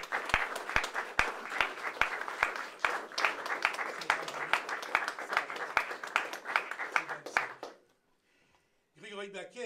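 Audience applause at an awards ceremony, irregular individual claps merging into steady clapping for about eight seconds, then a brief silence before a voice begins speaking.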